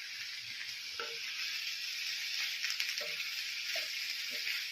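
Tamarind and vegetables sauté in a covered pan for banana stem chutney, giving a steady, moderately loud sizzle with a few soft stirring knocks and no talk.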